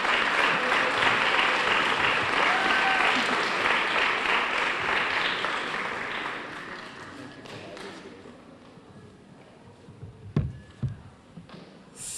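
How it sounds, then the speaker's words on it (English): Audience applause at a spring art show in New Bedford, loud sustained clapping that fades out over several seconds, followed by a few scattered thumps and near silence. "So please give great applause to Mr. Jeremiah Hernandez of the Ugly Gallery here in New Bedford."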